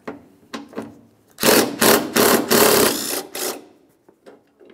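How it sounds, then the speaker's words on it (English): A 10mm socket ratchet clicks rapidly in a loud buzzing burst while removing a headlamp bolt on a car, preceded and followed by a few light taps. "To remove this bolt, we'll use a 10mm socket."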